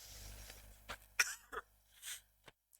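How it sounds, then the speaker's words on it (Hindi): A few quiet, short coughs and throat-clearing bursts from a person with a cold come in a loose, uneven sequence against near silence. "थोड़ा जुकाम है तो थोड़ा बीच बीच में थोड़ी खांसी आ रही है"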